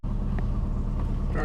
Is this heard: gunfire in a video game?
no